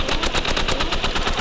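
Sustained rapid automatic gunfire from a competitive shooting video game, loud and close, a dense unbroken stream of shots with no talk over it.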